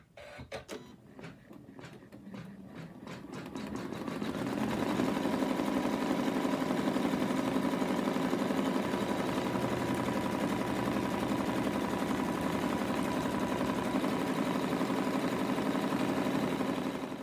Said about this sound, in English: Stitch the outline, which is, gives us a guide where to place the fabric